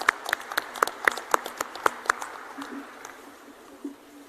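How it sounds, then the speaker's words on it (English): Sparse applause from an event audience at a drone summit inauguration in Amaravati, a few distinct hand claps ringing out in a loose rhythm for about two seconds, then thinning into faint scattered claps against room murmur. "So I think a round of applause would be appropriate at this time."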